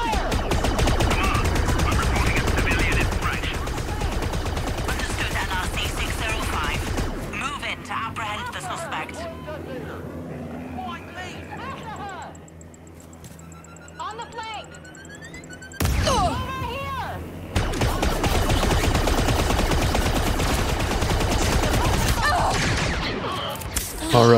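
Blaster gunfire in the Star Wars Outlaws video game, with dense bursts of shots under game music and voices, easing into a quieter stretch before rapid fire returns loud to the end.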